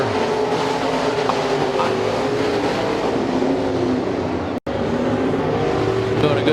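Race cars racing at the Speedzone track, a loud continuous engine roar of several cars at close range, steady throughout with one brief dropout.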